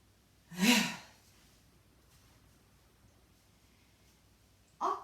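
One deep breath in during a stretching session, a strong close inhale near the start, then near silence and a second breath sound at the end.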